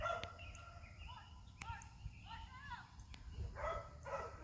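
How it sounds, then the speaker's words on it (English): Dogs bark on a farm in the background, a few scattered, fairly faint barks and yips beneath a person talking nearby. "Sorry about the dogs in the background."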